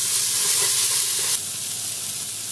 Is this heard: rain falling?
no